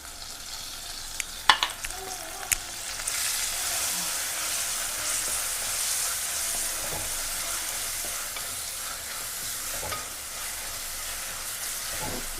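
Ginger-garlic paste goes into sautéed onions for a Tamil Nadu-style chicken curry, with a few sharp clinks at first, then a loud, steady frying hiss and occasional stirring scrapes.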